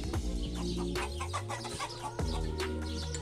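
Chickens cluck and squawk repeatedly at close range, several birds calling over one another in a busy, continuous chatter.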